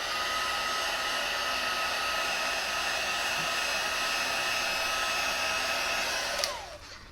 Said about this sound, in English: as I emboss this, it is turning